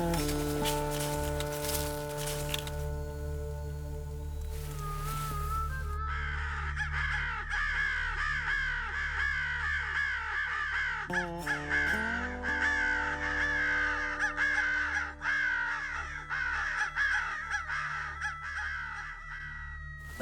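Crows caw in a wildlife management area during a winter hunt, several harsh calls repeating across the clip, some near and loud, others farther off, with no talking.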